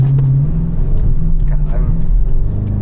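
A car in sport mode accelerates hard with a loud, steady low engine drone heard from inside the cabin, while people talk over it.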